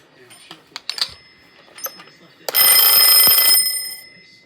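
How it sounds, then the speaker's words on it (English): An IKEA DEKAD alarm clock rings loudly for about a second and a half, a dense bright metallic bell rattle that follows some scattered light clicks and handling taps, then cuts off abruptly. "So I just want to stop the alarm."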